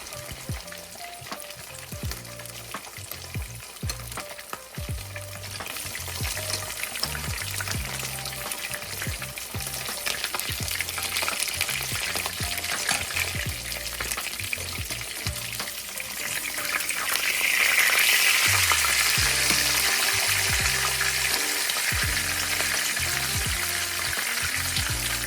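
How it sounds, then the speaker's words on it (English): Fish slowly deep frying in beef tallow makes a steady, close bubbling sizzle that swells louder toward the end, with occasional stirring and spooning sounds under soft background music. "I slowly deep fry my fish in beef tallow"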